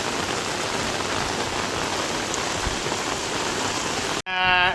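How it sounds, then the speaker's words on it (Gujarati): Steady rain pours down onto a surface, a dense, even hiss that fills the scene close by and unbroken until an abrupt cut near the end, followed by a brief different tonal sound. "વરસાદ ચાલુ"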